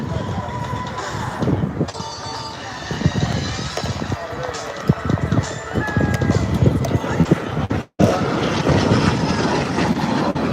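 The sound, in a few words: jet aircraft of demonstration team flying past at air show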